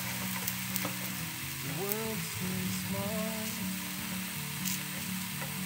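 A marbled chocolate crêpe cooks in a pan over moderate heat, giving off a steady low sizzle that runs alone throughout, with a few faint clinks and brief tonal squeaks in the middle.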